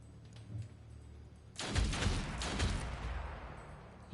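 Gunshots in the dark tactical game Othercide: a quiet lull with a faint thump, then a sudden loud blast followed by a rumbling, crackling volley that slowly fades.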